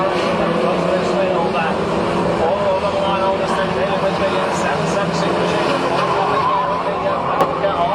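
Saloon cars racing on a short oval track, a dense roar of several engines at speed, steady and fairly loud, with a commentator's voice over the top.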